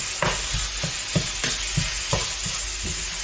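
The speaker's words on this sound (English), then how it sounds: "Now we can start to mash it up" Browned beef sizzles in a frying pan while a utensil mashes and breaks it apart, giving a quick, regular series of scraping stirs over a constant frying hiss.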